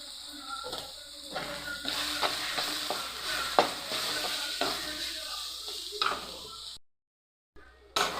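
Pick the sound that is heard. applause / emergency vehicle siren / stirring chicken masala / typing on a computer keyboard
stirring chicken masala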